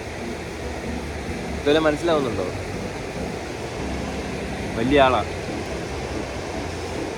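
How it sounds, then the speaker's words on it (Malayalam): A river at Kasol in the Himalayan Parvati valley makes a constant, even rushing wash in the background. Someone speaks briefly over it twice. "നമ്മൾ മനോഹരമായ പുഴയുടെ തട്ടിലിരുന്ന് അതിൻ്റെ സൗണ്ടൊക്കെ ആസ്വദിച്ച് ഇങ്ങനെ ഇരിക്കുകയാണ്"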